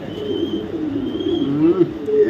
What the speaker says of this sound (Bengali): মাদি কবুতর একটা মাদি কবুতর